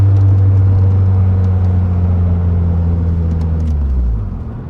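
A 1999 Mitsubishi Eclipse GS Spyder convertible driving along, a loud, steady low engine rumble with road noise that gradually eases as the car slows, no voices.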